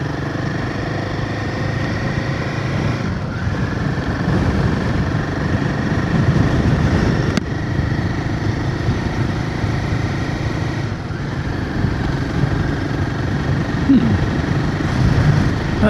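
A Royal Enfield Himalayan 450 motorcycle engine idles steadily up close, a continuous low rumble with faint intermittent voices in the background.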